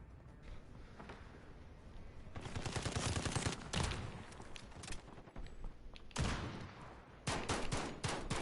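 Gunfire in Call of Duty: Modern Warfare, dense bursts of rapid automatic shots in several volleys separated by short lulls, loud and close.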